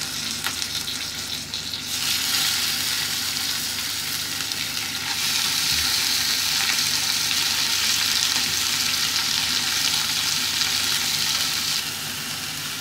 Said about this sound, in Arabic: هنجيب دلوقتي طاسة ونحط فيها معلقة زيت ونسيبها تسخن كويس جدا. هنحط فيها دلوقتي اللحمه تاخد صدمه